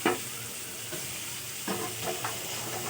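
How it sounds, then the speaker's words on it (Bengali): Bitter gourd slices sizzle in hot oil in a pan, being prepared for a mustard chorchori, a steady close hiss broken by a few soft stirring clatters, no voices. "সর্ষে করলা চচ্চড়ি করবো বলে করলা ভাজছি।"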